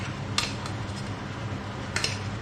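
Corned beef pie filling of meat and onions being stirred in a pot, with two sharp clinks of a utensil against the side over a quiet, steady background.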